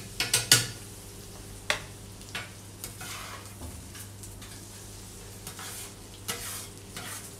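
Beef sucuk sausage frying in its own fat on a toastie griddle, a continuous quiet sizzle broken by sharp metal scraping and clinks of a spatula, with no talk.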